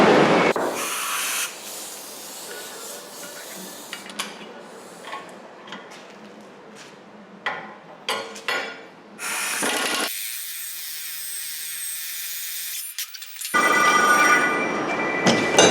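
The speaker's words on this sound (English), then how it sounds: "we'll air gun that out" A pneumatic air impact gun removes a hub bearing bolt on a 2010 Honda Accord, firing in loud, harsh hammering bursts at the start, middle and end, with a quiet gap before the final burst.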